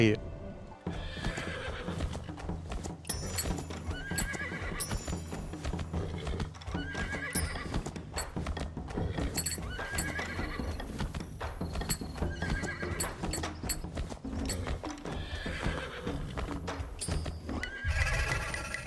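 In the video game Where Winds Meet, a wild horse is captured amid constant galloping hoofbeats and repeated loud neighs and whinnies, with dense game sound and a voice running throughout.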